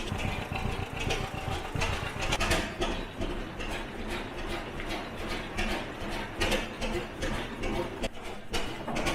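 An old 60-horsepower tractor with an oil-cooled two-cylinder kerosene engine runs with an uneven, chugging mechanical clatter and rattling gear noise, fairly close and continuous.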